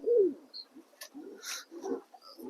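A pet pigeon recovering from a digestive illness gives a soft, close coo followed by a few short rustles and brief chirpy notes, with quiet gaps between them.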